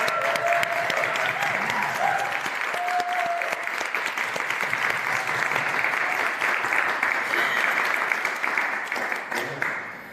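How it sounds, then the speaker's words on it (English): Audience clapping for students at a Europe Day event, a sustained, even round of applause lasting throughout, fairly loud and steady before tapering at the end. "I just want to say a round of applause for these students"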